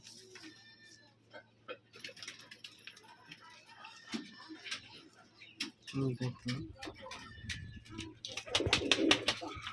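Pigeons on a pigeon farm in Rajshahi coo softly while people talk nearby, with scattered clicks and handling noises and a louder stretch of bird and movement sounds toward the end.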